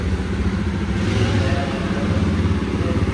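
A Jawa Bobber motorcycle engine with dual exhausts runs loud and close, throbbing in a steady, deep rumble with slight revving swells throughout.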